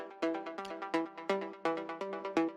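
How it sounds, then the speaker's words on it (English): A plugin synth plays a second melody for a progressive trance track, with bright plucky notes repeating in a steady rhythm, each decaying quickly, alone and fairly soft with no voices. "So I added this second melody"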